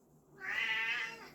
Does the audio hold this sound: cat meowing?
yes